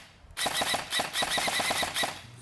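An XYL ARP9 gel ball blaster fires in quick succession, a close run of about a dozen sharp mechanical snaps in fast, slightly uneven bursts, with no talking.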